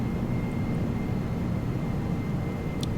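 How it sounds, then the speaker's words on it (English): Airbus A340 CFM jet engines on landing approach in the X-Plane 12 flight simulator give a steady, broad engine roar with a faint whine. The sound is continuous and fairly loud, with a brief higher hiss at the end and no talk. "These speed variations, as you can hear by the engines, are not helping very much."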